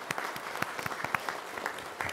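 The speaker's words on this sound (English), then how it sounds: "So let's give him a round of applause." Sparse applause from a small audience at a county fiscal court meeting, a few scattered claps forming a short, fairly quiet patter.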